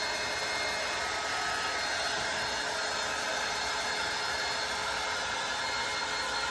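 Heat tool blows steadily to dry chalk paste on fabric, a constant loud fan-and-air rush with no breaks and no talk.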